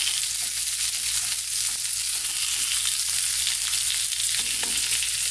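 Hairtail fish frying in oil in a pan over very low heat, a loud, continuous dense sizzle with no talking.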